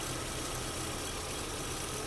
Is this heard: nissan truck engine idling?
yes